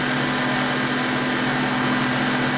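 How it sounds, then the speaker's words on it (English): An inertia sander works a wooden cove with a steady buzzing rasp, moderately quiet and unbroken, with no voices. "I can come back the other way to sand the cove in the other direction."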